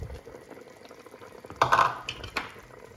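Tomatoes cooking down in a pot on a home kitchen stove give a brief burst of bubbling and sizzling partway through, fading into quiet low simmering with no one talking.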